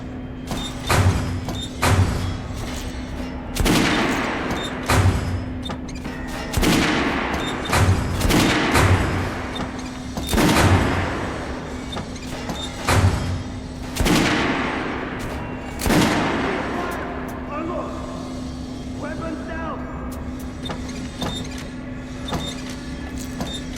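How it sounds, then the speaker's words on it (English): Rifle volley gunfire in Metro Last Light, a series of sharp, loud broadband shots repeating roughly every one to three seconds over a steady low hum, echoing and fading toward the end. "Shooting position! Load! Fire!"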